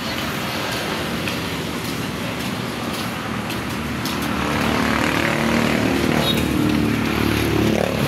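Steady, loud engine roar of passing motorcycle traffic on a busy highway, swelling slightly louder midway, with no voices.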